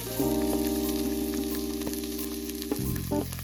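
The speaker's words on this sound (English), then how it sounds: "I have some beef fat here from when I was butchering the ribeye, which I'll toss into the pan and let melt a bit." Beef fat trimmed from a ribeye melts in a hot skillet with a steady, gentle sizzle, joined by a few scrapes and clinks as the fat is pushed around the pan.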